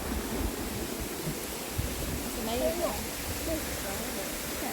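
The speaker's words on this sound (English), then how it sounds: "And there's the waterfall." Canonteign Falls, England's highest waterfall, fed by a leat, gives a constant broad rushing roar of falling water heard from a viewpoint, steady and unbroken, with faint bits of nearby sound on top.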